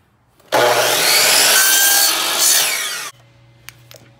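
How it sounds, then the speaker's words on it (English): A hand saw cuts a plain wooden builder's baseboard trim board at a 30 degree angle, a loud continuous rasping stroke lasting about two and a half seconds, then a few faint clicks after it stops. "We're gonna cut this at a 30 degree angle."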